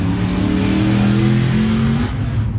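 A Lexus RC F engine with a RES exhaust revs loudly with a deep, rising exhaust note, holding steady before dropping off near the end.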